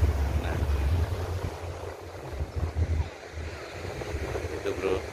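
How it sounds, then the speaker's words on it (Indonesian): Big ocean waves rolling onto a south-coast beach in Malang, a low rumbling surge mixed with wind buffeting the microphone, heard continuously without speech. "Ini adalah pantai selatan. Pantai yang ombaknya cukup lumayan gede."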